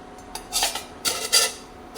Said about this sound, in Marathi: कढईसुद्धा गरम करायसाठी ठेवली आहे आणि गरम कढईमध्ये आपण घालूया